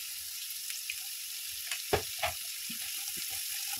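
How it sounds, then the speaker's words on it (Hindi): Onions frying in oil with turmeric for lemon rice give a steady broadband sizzle, with a few sharper crackles and stirring knocks near the middle. "देखिए अनियन को भी अच्छा सा फ्राई कर लेंगे"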